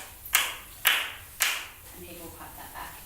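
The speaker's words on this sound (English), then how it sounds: "and people clap that back" Three sharp hand claps spaced about half a second apart, a simple rhythm pattern for students to copy in a music engagement session, followed by a soft voice.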